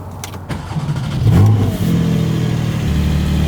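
The engine of a Porsche 718 Spyder starts for the first time with a brief crank, catches, flares into a loud rev and then settles into a deep, steady idle, heard close up.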